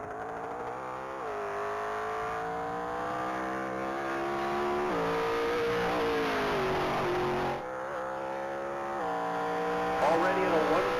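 A freshly built race car accelerating down the mile at the Texas Mile top-speed event, its engine climbing through several gear changes with rising pitch, distant and steady, under a commentator's voice.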